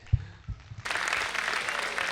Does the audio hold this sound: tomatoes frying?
no